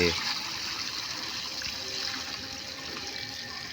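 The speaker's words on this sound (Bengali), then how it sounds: "দেখো সব জল ফেলে দিল" Collected water being pushed out and poured away, a steady rushing gush that stays loud and near for the whole stretch, with no pause in the flow.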